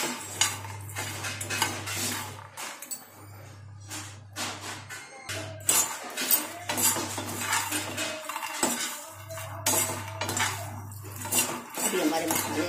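Fox nuts (makhana) are roasted and stirred in a metal pan, giving repeated scraping and clinking of a spoon against the pan in uneven bursts, close and fairly loud, with a faint sizzle and no talking.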